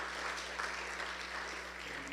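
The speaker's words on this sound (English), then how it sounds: "I think a round of applause is in order for that." An audience claps at a school sports banquet, steady moderate applause from a room of people with a low background hum, continuing evenly throughout.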